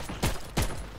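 Two sharp gunshots from the World War II video game Heroes & Generals, about a third of a second apart, loud and close against a steady background hum of game noise.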